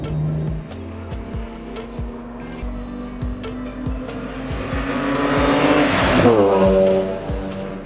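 A BMW E46 M3 with its 3.2-liter S54 inline-six and individual throttle bodies revs hard to high RPM on the Laguna Seca track, a loud rising engine howl with gear changes and a brief tire squeal, no talk.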